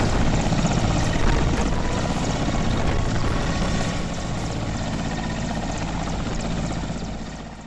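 An army helicopter carrying radar flies over the Rishiganga river, its rotor thudding loudly and steadily before easing slightly and fading toward the end, with no voices.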